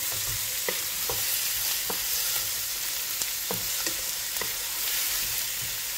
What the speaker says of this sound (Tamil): ஏன்னா வெங்காயம் நல்லா வதங்கணும்.